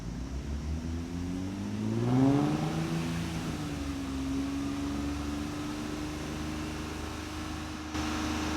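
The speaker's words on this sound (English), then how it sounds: "rev it to 3000 for about 10 seconds" A Nissan 350Z engine is held at a steady rev of about 3000 rpm after a brief climb from idle, a low, even hum that carries on quietly and alone for several seconds.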